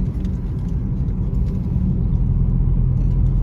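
Steady low rumble of a motor tricycle on a highway, its engine drone mixed with buffeting wind noise, continuous and close throughout with no talking.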